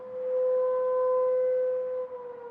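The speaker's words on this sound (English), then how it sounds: "And there go my siren." A civil defense siren sounds its noon test in Washington, DC, a steady, droning wail held at one pitch, loud and unbroken before dipping and wavering as it fades.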